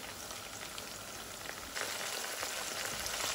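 Aubergine slices fry in a pan for a curry, giving a steady, soft crackling sizzle that grows a little louder partway through, with no talking.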